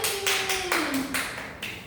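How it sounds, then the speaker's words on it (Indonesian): Applause from a fifth-grade class for a student who came to the front, a steady two-second patter of clapping with a voice briefly heard over it. "tepuk tangan untuk Mbak Yuni"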